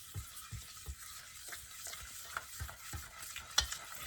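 Egg and sugar are mixed in a bowl for a strawberry pie: soft, rhythmic stirring strokes about twice a second, quiet and close, with light scraping against the bowl.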